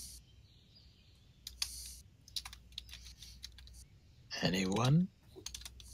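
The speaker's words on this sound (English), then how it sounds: "I'm typing ogre power on my, on my character sheet in other places" Light clicking of a computer keyboard during an online tabletop role-playing session. Scattered, quiet keystrokes come in short bursts, and one voice briefly speaks near the end.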